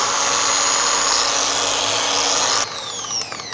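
A car polishing machine buffs scratches out of automotive paint with a loud, steady whine that runs unbroken for over two seconds, then drops in level and shifts pitch as the speed changes.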